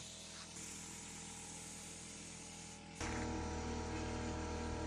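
A steady hiss of paint spraying onto a slab picnic table runs throughout, with a brief dip before it resumes louder and fuller, over a constant low hum.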